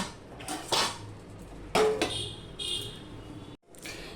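Stirring a pot of vegetarian sweet pumpkin greens with chillies and sugar on a gas stove, giving a few scattered clinks and scrapes of a spoon against the metal pot, close and moderately loud, with no talk.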